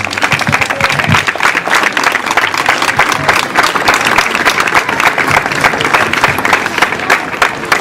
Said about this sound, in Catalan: jo pediria un fort aplaudiment a la Fundació contra el Càncer de Badalona